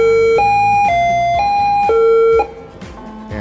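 A road striper truck's warning system, designed so it is not mistaken for an air horn or emergency siren, sounds a loud, clear series of stepped alternating tones. It cuts off sharply near the end, leaving a low background hum.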